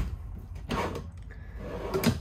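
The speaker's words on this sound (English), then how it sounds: "All these drawers will pull out here." Kitchen drawers in a 2022 Keystone Springdale 280BH travel trailer slide open, two quick close rolling pulls with light clunks, alone without talk.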